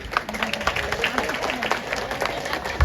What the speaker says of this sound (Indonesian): Tepuk tangan buat nenek